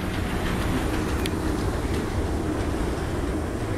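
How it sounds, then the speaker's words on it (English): A Disney World monorail passes nearby as a steady, loud rolling rumble and whir of rail cars that holds constant throughout. "The monorail!"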